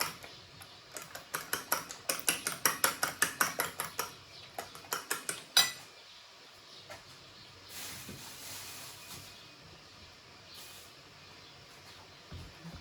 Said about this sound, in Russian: Хорошенько взбиваем.